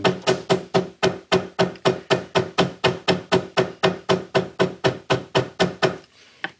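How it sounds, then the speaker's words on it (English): A hammer taps down the glued tail of a leather ranger belt: about twenty sharp, evenly spaced knocks in a steady rhythm, loud and close, ending in a brief quiet. "give it a little tap with a hammer"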